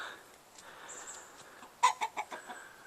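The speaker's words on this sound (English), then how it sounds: "This is the chicken pen" Chickens clucking in a pen of about 30 birds above an orchard at a creamery: a short run of sharp, moderately close clucks near the end over soft outdoor background.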